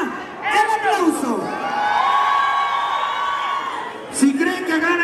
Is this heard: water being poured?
no